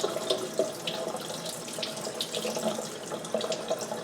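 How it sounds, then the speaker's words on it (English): A whole raw chicken carcass being rinsed inside and out under a kitchen tap, running water splashing steadily and close with small irregular spatters as it is turned. "And just giving the carcass a good rinse inside and out."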